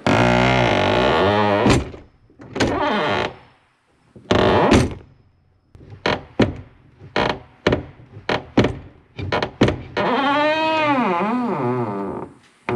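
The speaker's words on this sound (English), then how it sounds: "let's see if the door closes better" A Kenworth cabover truck door is shut repeatedly, each close landing as a sharp thunk, with drawn-out metallic squeals and creaks before and after.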